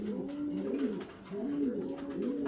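Fancy pigeons at a farm in Singra, Natore, coo in two rising-and-falling rolling phrases, close and fairly quiet, with faint room noise and no speech.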